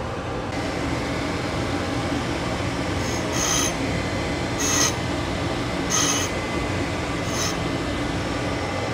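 A diamond dresser coarse-dressing a grinding wheel in a machine shop, a constant loud grinding whir with several short, bright scraping bursts about every second or so, no talk.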